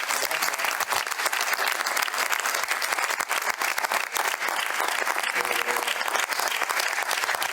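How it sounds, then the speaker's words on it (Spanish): Dense, steady applause from a conference audience for cyclist Joseba Beloki, a continuous wash of clapping hands lasting several seconds without pause. "es el momento de darle un fuerte aplauso a Joseba"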